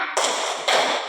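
Pupils in a classroom clap the 'tepuk semangat' cheer pattern, two loud bursts of group clapping close together, with no voices over them.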